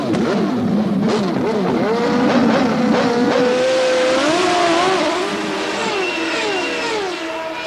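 Race cars from the video game Nigel Mansell's Indycar '93 drone loudly and steadily on a racetrack, engine pitch sweeping up and down through gear changes and overlapping passes, with no talk.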